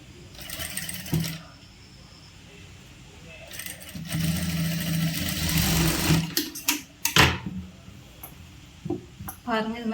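A tailoring sewing machine stitches churidar fabric with piping in short whirring bursts, one brief and one longer sustained run, followed by clicks and handling clatter up close.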